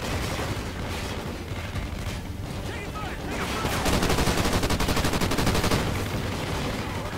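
Gunfire in Call of Duty: Ghosts keeps up a dense, loud stream of shots and bursts, quickening into rapid automatic fire in the middle, with a busy game soundscape underneath.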